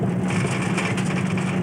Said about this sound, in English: The engine then has to push us up a little slope